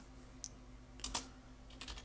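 A few quick keystrokes on a computer keyboard, tapped in short bursts at close range with no talking, as a command is entered into an Ubuntu server terminal.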